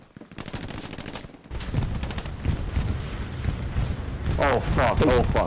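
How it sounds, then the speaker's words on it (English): Enemy bombing run in the World War II shooter Hell Let Loose, heavy rumbling blasts and rapid gunfire rolling continuously and building louder, with a voice shouting over the din near the end. "That's their bombing run."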